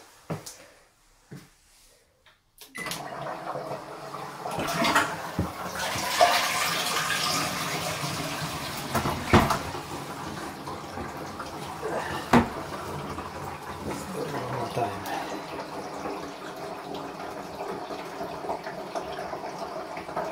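After a brief silent moment, a low-flow toilet flushes with a steady, fairly soft rush of water that continues for a long while, with occasional clicks and knocks.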